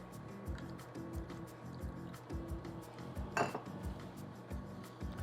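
A spoon stirs half and half into a creamy chicken sauce in a pan, giving quiet, rhythmic scrapes and soft clinks against the metal, with a brief louder clatter midway.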